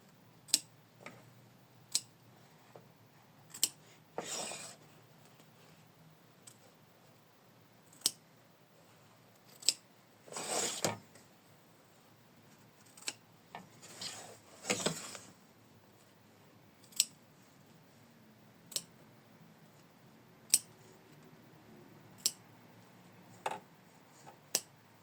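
Scissors trimming a paper bookmark, a series of sharp close snips spaced every second or two, with a few longer rustling cuts in a quiet room.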